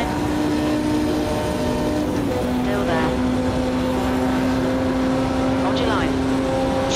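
A race car engine drones at high revs in Automobilista 2, holding steady, then dropping pitch briefly at an upshift before climbing again. The engine stays loud and constant, with a few quick squeals or chirps over it.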